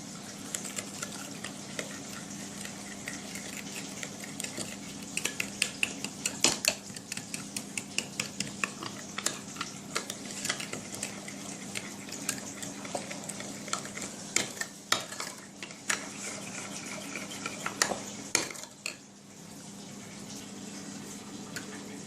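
Coleslaw vegetables with dressing and milk are stirred in a bowl, giving a run of wet, squelchy clicks and spoon taps against the side that grow busier midway and then ease into a quieter, softer mixing at the end.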